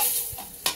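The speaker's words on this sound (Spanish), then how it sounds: "Ahí vamos a pausar un rato para mientras que eso se vaya a sofreír." Chile sauce frying in a pan gives a soft hiss with a light stirring scrape, brief and close, ending in a sharper sizzle burst.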